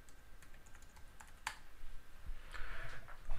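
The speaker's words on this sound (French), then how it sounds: "on tape le mot de passe." Keys tapped on a computer keyboard to enter a password, a short run of light, quick clicks at close range with a few louder presses over a faint background hum.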